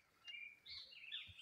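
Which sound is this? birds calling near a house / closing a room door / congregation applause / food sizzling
birds calling near a house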